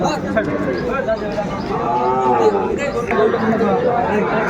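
Sahiwal cattle at a busy cattle market lowing in long, drawn-out moos, close and loud, with crowd chatter in the background.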